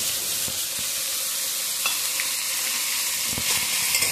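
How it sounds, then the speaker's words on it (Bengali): Potatoes and carrots frying in a pan, a loud, steady sizzle with scattered scraping and knocking as they are stirred, close up and without talk. "তাই আলু গাজরটা দিয়ে নেড়েচেড়ে নিয়ে কিন্তু পেঁয়াজ দিলাম"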